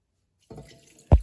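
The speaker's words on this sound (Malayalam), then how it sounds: "ഇനി നമുക്ക് വേവിക്കാൻ ആവശ്യമായ വെള്ളം ഒഴിച്ചു കൊടുക്കാം" Water splashes into a pressure cooker over large pieces of pork: a short wet pour, then a brief loud splash or thud close by, with no talking.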